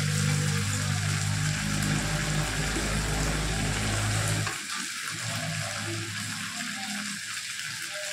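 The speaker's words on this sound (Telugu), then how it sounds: "వేసుకొని బాగా వేపాలి. పచ్చివాసన పోయేలాగా బాగా వేసుకోవాలి." Ginger-garlic paste and curry ingredients frying in a pan, a steady close sizzle with a low rumbling hiss that drops and thins out about halfway through, no talk.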